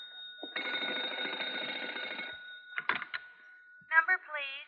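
A telephone bell rings in a radio drama sound effect, a sustained bright ring followed by shorter bursts and chirps, fairly quiet and heard alone without talk.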